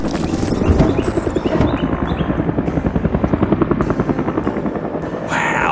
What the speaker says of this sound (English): An orange helicopter has arrived to lift the paver away to safety.